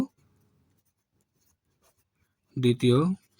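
A pen scratches faintly across paper while a maths solution is written out, a soft brief stretch of scribbling before a voice begins speaking.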